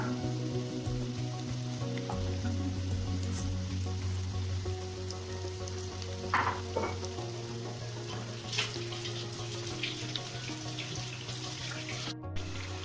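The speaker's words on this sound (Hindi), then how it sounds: "तो चलिए सारा मोमो फ्राई होने के लिए मैं डाल रही हूँ।" Street-style kurkure momos frying in hot oil, a soft steady sizzle and bubbling running throughout at moderate level, with a faint tonal hum underneath and a few small clinks near the end.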